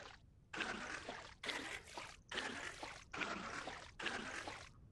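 Water pouring into barrels in the video game Vintage Story, five repeated bursts of bright splashing each lasting under a second with short gaps between, soft and close, with no talk.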